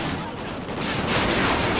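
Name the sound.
gunfire from the video game Call of Duty Ghosts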